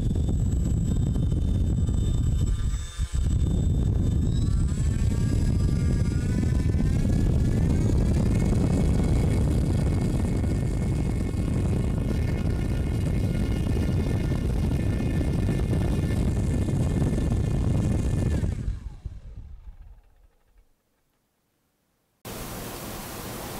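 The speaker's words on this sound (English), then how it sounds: "Now I'm going to spin this up, same thing." A Leopard 2830 1290Kv brushless motor spins a 9.5 propeller on a test bench. It makes a loud, steady whirring roar with a rising whine that holds for nearly twenty seconds, then spins down and falls quiet before a burst of noise at the end.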